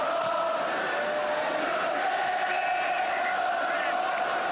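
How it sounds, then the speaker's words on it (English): Chelsea supporters chanting and roaring at a football match, a dense, steady crowd din with voices carrying over a continuous wash of noise. "Those are the Chelsea supporters."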